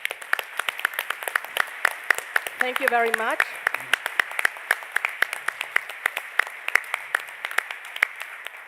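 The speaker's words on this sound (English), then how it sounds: "we would like to acknowledge them with a big applause" Audience applause at a conference grand opening, steady scattered clapping throughout with a brief spoken thanks over it partway through.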